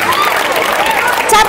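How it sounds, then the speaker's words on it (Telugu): Applause for the girls at a school teacher's retirement celebration at GHS Borabanda: a dense, steady patter of many hands clapping together, with voices mixed into the crowd noise. "with a huge round of applause"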